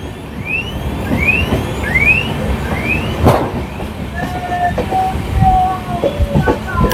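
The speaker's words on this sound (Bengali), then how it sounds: "আর এই ট্রেনটি মুর্শিদাবাদ জংশনের 1 নম্বর প্ল্যাটফর্মে ঢুকছে।" The Sairang–Kolkata Express rolls into platform 1 at Murshidabad Junction. A run of rising whistle-like squeals gives way to a sharp clank, then drawn-out wheel squeals and rumbling carriages close by, with voices murmuring in the background.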